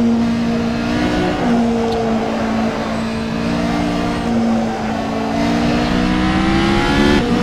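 A Toyota TS040 LMP1 prototype race car howls around Spa in a racing game, its loud engine holding a steady high-revving tone with small pitch shifts through gear changes and corners. There is no talk.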